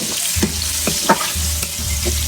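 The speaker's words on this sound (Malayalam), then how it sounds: "മീൻ വറുത്ത എണ്ണയാണ്. അതിൽ ഉള്ളി ഇട്ടിട്ടുണ്ട്." Onions fry in oil already used for frying fish, a close, steady sizzle with a few light stirring scrapes and a low hum beneath, no voices present.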